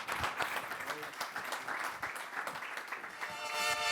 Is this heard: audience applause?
yes